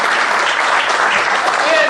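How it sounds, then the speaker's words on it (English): A crowd applauds steadily, a dense wash of clapping that stays loud throughout. "So, Ian Stewart, can you all give him a few rounds of applause in the get-up, guys?"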